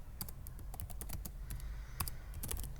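Rapid, close typing on a computer keyboard as Java code is entered, with a steady run of crisp key clicks over a low background hum.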